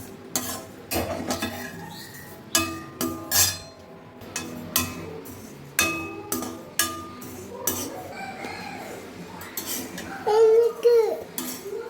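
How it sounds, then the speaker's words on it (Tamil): About 100 g of fennel seeds roasting in a pan over a medium flame, with a spoon scraping and clinking in irregular bursts while a rooster crows and clucks nearby. "இப்போ இது வந்து 100 கிராம் சோம்பு மீடியம் ஃப்ளேமில் வச்சு வறுத்துக்கலாம்"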